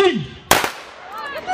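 A single sharp gunshot rings out at a firing demonstration at a Thai children's day event, a short loud crack with brief echo, surrounded by a voice speaking over a loudspeaker.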